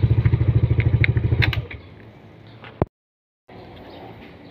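Yamaha NMAX motor scooter fitted with a JBT aftermarket exhaust pipe idles close by with a rapid, loping pulse, then settles to a low hum, broken by a sharp click and a brief dropout.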